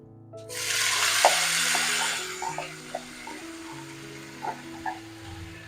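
Diced elephant foot yam drops into a hot pan with a sudden loud sizzle that gradually settles, while a spoon scrapes and knocks against the pan.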